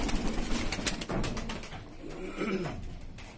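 Kalmuhe pigeons, a home-bred young bird among them, coo in low repeated throaty phrases, close and fairly loud, with a few brief flutters.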